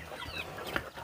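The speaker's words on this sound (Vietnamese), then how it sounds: "Gà này là của mình nuôi." Chickens raised at a remote mountain home cluck faintly in the background, a few soft scattered calls over low ambient noise with no talking.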